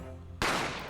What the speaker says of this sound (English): I didn't have time to think about where the sound of the gunshot had come from.